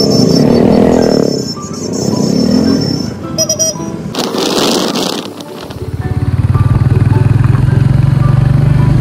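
A motorcycle rides along a coastal road toward a sea beach near Kolkata, its engine and wind rumble loud and steady, rising into a sustained drone toward the end.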